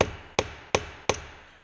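A hand hammer strikes a sheet metal seam at a corner, pressing the two pieces tight: three sharp, evenly spaced metallic knocks close up, each ringing briefly before fading.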